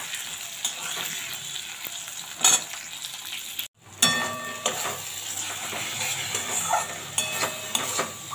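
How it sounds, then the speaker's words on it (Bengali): Large-cut potato pieces fry in oil with cumin, giving a continuous sizzle broken by repeated stirring scrapes and clanks of a utensil against the pan, with one brief drop-out midway. "যে আলুগুলো কেটে নিয়েছিলাম ওগুলো ভাজতে বসিয়ে দিয়েছি"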